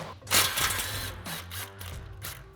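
A hand ratchet with a 10 mm socket clicks in quick bursts while loosening bracket bolts on a Ford F-150 during a lift kit install, close and crisp with short pauses.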